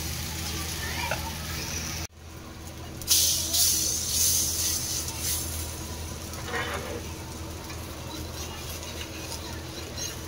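Small chila frying in a pan with a little oil, a continuous close sizzle and hiss that cuts out briefly, then resumes louder with some stirring, steady to the end.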